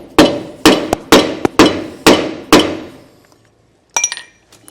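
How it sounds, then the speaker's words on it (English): A drive tool struck with a hammer to seat a dust cap into a trailer wheel hub assembly: six sharp, loud metallic blows in quick succession with ringing decay, then a pause and a brief clinking of metal near the end. "I've got a drive tool so that I can hammer it in to our hub assembly"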